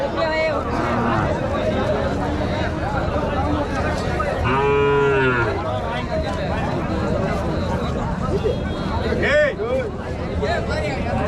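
Cattle and calves moo loudly amid a noisy crowd of people talking at the Mattrapalli cattle market, with one long low bellow standing out in the middle and another call near the end.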